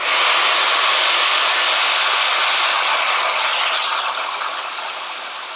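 A Laifen Swift hair dryer runs on a hot setting with a loud, close, steady high-pitched whine and airy rush that fades slightly toward the end.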